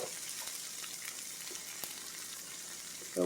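An egg and tomato dish fries in a pan with a soft, steady sizzle and hiss, fairly quiet and close, with faint stirring clicks and no speech.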